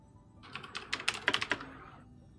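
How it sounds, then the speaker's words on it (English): Someone types an email on a computer keyboard, a close run of quick, crisp keystrokes that speeds into a dense burst before trailing off, with no talking. "Right now, I'm typing an email to YouTube right now"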